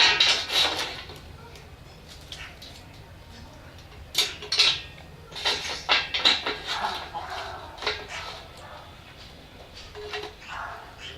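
Cooking pot set on an Ikea hobo stove with windscreen while wood is added, intermittent metallic clanks and knocks of pot and sticks against steel, with speech between them.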